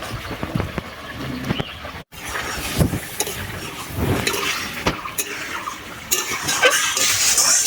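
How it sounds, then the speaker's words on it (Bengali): Fish curry of kuche eel stirred in a pot right after water goes in, giving irregular scraping and sloshing clinks of a utensil against the pan over a steady background hiss, with no talking. "জলটা দিয়ে একটু নাড়াচাড়া করে নেব।"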